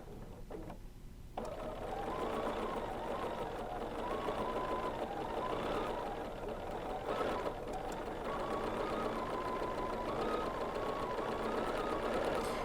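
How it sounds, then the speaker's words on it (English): A BERNINA sewing machine free-motion quilting with the stitch regulator on mode 2, starting after a brief pause and then running steadily with a fast, continuous mechanical whir and rapid stitching. "With my stitch regulator on mode 2, I am going to begin my Freemotion quilting."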